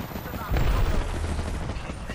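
Heavy gunfire in the battle royale game Apex Legends, a loud sustained barrage with a thudding low boom near the start, dense and close under team chatter.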